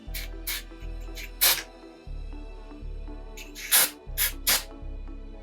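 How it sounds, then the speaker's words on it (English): Short bursts of electronic contact cleaner hiss from a spray can onto a PS Vita analog stick, several quick close sprays of varying length over a low steady hum. "spray it down real quick with some contact cleaner"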